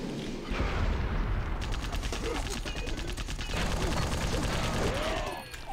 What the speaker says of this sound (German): Das ist ein ziemlich seltsamer Granatwerfer Sound.